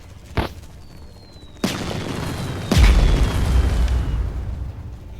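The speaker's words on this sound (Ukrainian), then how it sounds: "На нього прилетіла ядерна бомба і на мене" Several heavy booms from the Roblox game Military Tycoon: a sharp blast, another burst, then a deep roaring nuclear bomb explosion that rumbles on, with no talking.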